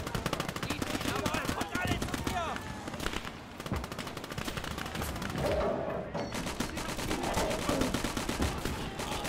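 Gunfire in the video game Call to Arms Gates of Hell, set in North Africa 1943 at the Kasserine Pass, with rapid machine-gun bursts and scattered rifle shots in dense, continuous volleys and a voice talking beneath.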